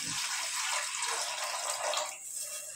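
Cold water poured into a pan, a continuous close gush that runs for under three seconds and softens slightly toward the end.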